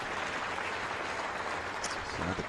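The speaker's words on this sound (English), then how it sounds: "So the crowd just finding their voice." Tennis crowd at the Hobart International applauding in a steady, dense wash of clapping that fills the arena, with commentary over it.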